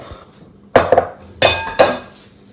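A big kitchen bowl set down and handled during a cookery demonstration, giving three or four sharp, ringing clinks and knocks, loud and close, with no talking.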